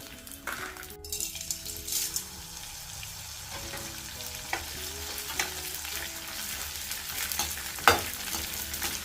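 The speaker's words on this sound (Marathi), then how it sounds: "डिंक छान तळला आहे" Edible gum fries in ghee in a pan for sweet laddoos, a steady close sizzle broken by stirring scrapes and an occasional metallic clink of a spoon against the vessel.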